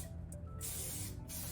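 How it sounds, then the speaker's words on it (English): Chi Royal Treatment finishing hairspray is sprayed onto a wig in two bursts, a short hiss and then a longer, steady hiss, close to the microphone. "Always want to finish it off with a little bit of finishing spray."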